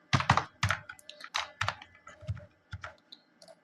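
Computer keyboard typing while passenger names are entered on a train ticket booking form, a run of near, crisp key clicks in uneven bursts with short pauses, no talking.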